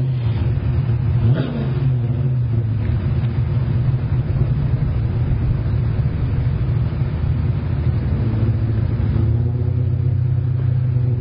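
Drag racing cars, including a Chevy and a Camaro, roar down the strip with a continuous rumbling engine drone heard from a distance, with rising revving surges over the crowd ambience.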